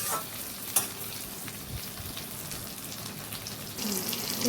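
Tilapia (monopriya) fish frying in hot oil for a fish masala, a steady close crackling sizzle with faint clinks and a brief rise toward the end, no talking.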